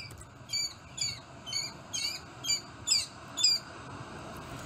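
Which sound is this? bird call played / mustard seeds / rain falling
bird call played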